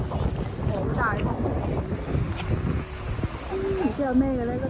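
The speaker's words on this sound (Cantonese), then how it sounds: "好大風" Strong sea wind buffets the microphone on a boat off the Tottori coast at sunset, a steady rushing roar beneath nearby voices and a child's high speech.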